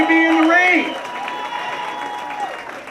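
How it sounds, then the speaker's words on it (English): Rain-soaked crowd at an outdoor Tea Party rally in Wilmington, Delaware, applauding in a steady wash of clapping, with cheering voices over it at the start before the applause settles into a sustained patter. "give yourselves a round of applause"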